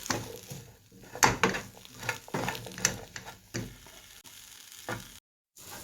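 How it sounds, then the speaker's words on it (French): Vegetables stirred and left to caramelize in butter in a pan for braised fish with sautéed vegetables: steady sizzling frying with repeated scraping stirs and utensil knocks, close and moderately loud, ending in a brief silence. "je viens mélanger tout ça et je vais laisser caraméliser avec le beurre"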